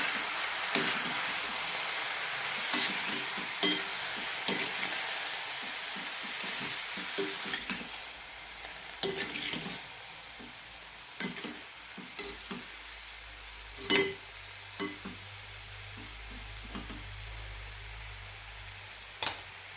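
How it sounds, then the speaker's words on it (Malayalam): A spoon stirs an anchovy peera mixture with turmeric and salt in a frying pan, giving quiet continuous sizzling broken by repeated scraping knocks at an irregular pace. "നന്നായി മിക്സ് ചെയ്യാം"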